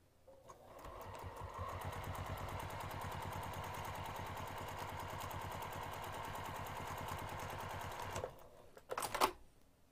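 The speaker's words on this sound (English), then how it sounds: "we're going to top stitch this top edge using an eighth of an inch seam allowance" A sewing machine top stitches a bag's top edge at a lengthened 3 mm stitch, revving up and running in one steady rapid burst, then stopping with a few handling clicks.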